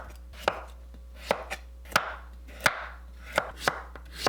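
Old pumpkin with its skin and seeds removed is cut by knife into thin flat slices about 0.3 cm thick, giving sharp, evenly spaced chops on a board, about eight crisp strikes at close range with no talking.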